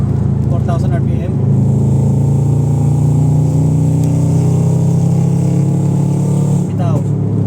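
An ECU-tuned Ford Fiesta Mk7 engine with UEL headers revs up and holds near 4,000 RPM, a loud, steady drone with a deep exhaust note that rises at the start and falls away near the end, with someone talking over it.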